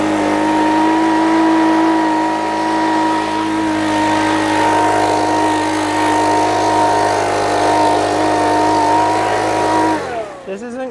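Motor revving and droning steadily while being tuned, suspected of rod knock, a loud sustained engine tone holding for about ten seconds before cutting off abruptly.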